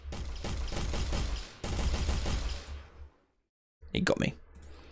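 Gunfire from a deathmatch bot in an Unreal Engine 4 game sounds as rapid repeated shots in two bursts, followed by a short silence and then a few sharp louder shots.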